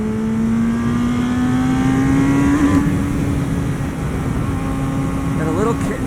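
A 1988 Yamaha FZR 1000 motorcycle engine revving with a loud, continuous high whine that climbs in pitch, holds, then eases off before a brief rise near the end, close and dominant.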